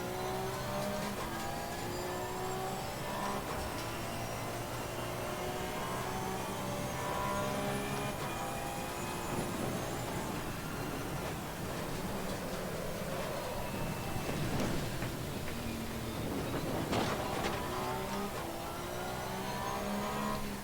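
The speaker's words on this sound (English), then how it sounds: "Both Porsches. Flat 6." Porsche flat-six race car engine in Assetto Corsa Competizione, a continuous loud drone that rises and falls as it revs and shifts through gears, with no talking.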